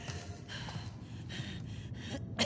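Labored, ragged breathing of an injured character in The Last of Us 2: four or five heavy breaths in uneven rhythm, close and fairly loud, with no speech.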